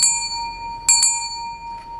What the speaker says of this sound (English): The bell, Lane!